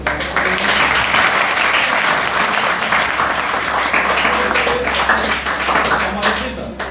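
An audience at a Sanskrit speaking program at Mahishi College claps to welcome an honored guest, a loud, dense wash of applause that holds steady for several seconds.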